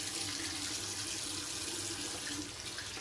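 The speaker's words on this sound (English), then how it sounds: "So rinse off the face." Water runs steadily from a tap into a sink while shaving soap is rinsed off a face, a continuous close hiss with no talking.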